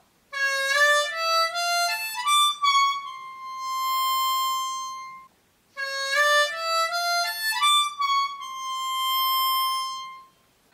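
Harmonica playing a melodic phrase from the song in the film Tsygan, heard twice in a row: a rising run of notes ending on a long held tone, played close and alone.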